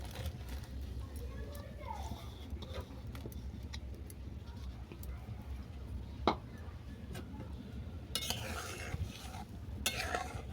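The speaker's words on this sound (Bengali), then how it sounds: "দুধ ভালো করে ফুটে যাওয়ার পর আমি তুলে দিচ্ছি ভেজে রাখা রাঙালু" Fried sweet potato pieces stirred into boiling milk, a steady bubbling simmer with soft scraping and occasional clinks of utensil against pot, while a voice talks over it.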